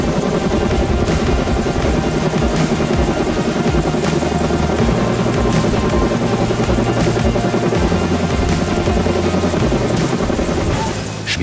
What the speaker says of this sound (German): Der Hubschrauber spannt die Leinen und hebt den großen Steinbock vom Boden.